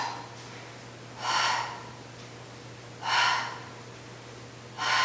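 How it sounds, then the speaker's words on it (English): Slow, audible breaths during a Pilates workout on a spine corrector, three long airy swells spaced about two seconds apart over a low steady hum, close and moderately loud with no talking. "Inhale, exhale."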